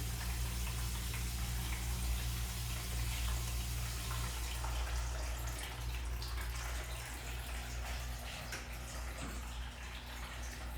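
Water runs through an irrigation zone manifold fitted with an anti-siphon valve and flow control, making a soft, steady rushing hiss. Low hum underneath, the flow faint and continuous with no one talking.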